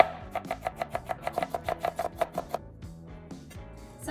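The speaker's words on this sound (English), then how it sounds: "I'm gonna go ahead and slice these up." A knife slices jalapenos on a cutting board in a quick, even series of about fifteen crisp taps, close and fairly quiet, followed by a few softer knocks.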